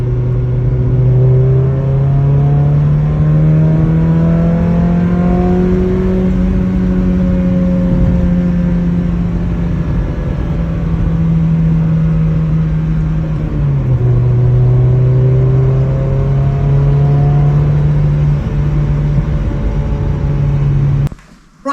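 A Mazda MX-5 Miata NB2 with its rear exhaust box removed drones steadily while driving, heard from inside the car, its engine pitch rising and falling gently with throttle changes for about twenty seconds before cutting off.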